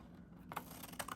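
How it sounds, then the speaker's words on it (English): Scissors snip through paper tag stock for a junk journal, giving a few short crisp cuts close by, separated by quiet pauses over a low steady background hum. "So I'm just gonna take my scissors,"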